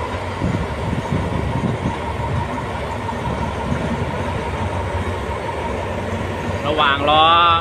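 A steam locomotive tour train at a busy Bangkok railway station rumbles steadily amid crowd noise, and a sharp rising whistle-like blast sounds near the end.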